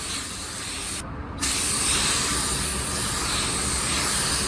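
A spray gun lays a thin clear base coat over an entire car, producing a loud, steady hiss that breaks off briefly near the start and then resumes continuously.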